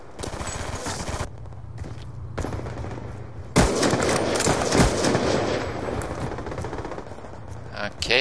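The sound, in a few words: gunfire in the video game Call of Duty Black Ops 2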